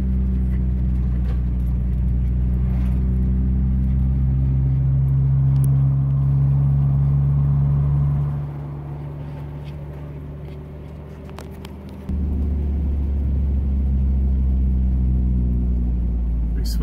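Engine rumble and road hum come from inside a car driving a switchback mountain road in Arizona, steady and loud, dipping briefly partway through before returning.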